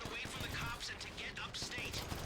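Rapid gunfire in GTA 5 Online during a heist, a fast run of repeated shots in a steady rhythm, fairly loud and dense from start to finish.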